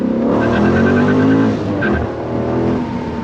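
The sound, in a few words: 2012 Dodge Challenger SRT8 392 accelerating in first gear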